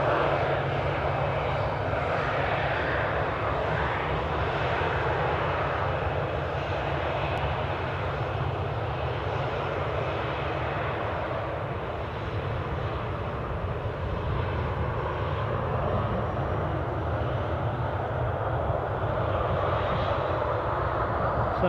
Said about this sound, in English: This is Jet2 737.